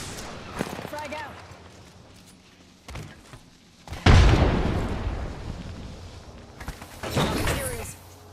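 A frag grenade detonates in a Vtuber's multiplayer shooter match, a single loud close boom with a rumbling tail, set among scattered game effects and faint earlier impacts.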